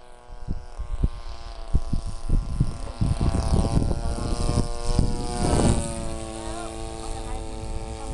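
An RC model airplane with a 26cc aluminium engine converted to run on nitro flies past, its steady droning buzz rising and falling in pitch as it passes. A voice speaks briefly over the engine.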